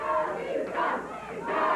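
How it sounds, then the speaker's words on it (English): A wrestling arena crowd at a 1995 USWA heavyweight title match jeers Doug Gilbert, a loud, sustained roar of many voices swelling in waves. "the crowd is expressing their feelings about Doug, and they are not what Doug would like to hear"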